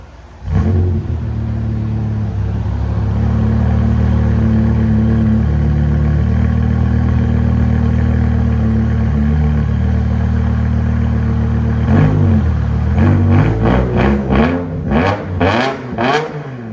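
A 500 hp BMW M5 with a 5.0L V10 and straight pipes starts up and idles with a loud, steady, deep drone, then near the end fires off a series of sharp, rapid revs close to the microphone.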